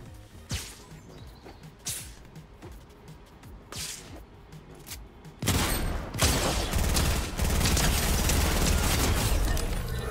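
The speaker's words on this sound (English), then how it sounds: "Shots that way." Gunfire in a solo battle royale video game, first a few sharp single shots with quiet gaps, then a sustained loud burst of rapid fire and crashing impacts.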